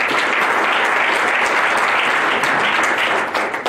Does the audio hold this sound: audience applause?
yes